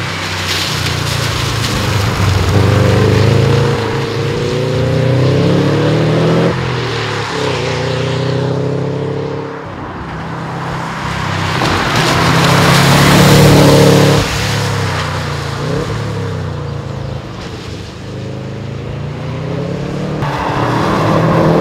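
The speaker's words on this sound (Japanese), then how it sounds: "駆動系のノイズが非常によく入るようになりましたが、 これ壊れてるんではありませんので" Steady mechanical drone of a Subaru Impreza GC8's drivetrain under way, 240-horsepower engine, with whining harmonic tones that rise and fall as the engine revs change, continuous and fairly loud.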